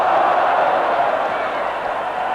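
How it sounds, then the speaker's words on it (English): A rugby league crowd applauds in a steady wash of clapping and cheering that stays even for a couple of seconds. "And down he goes to the applause of the crowd."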